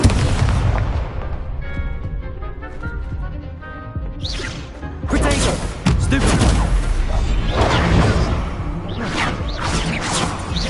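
Incendio fire spell repeatedly cast in a Hogwarts video game, loud booming blasts and crackling bursts over layered game music and effects, several sharp impacts in quick succession.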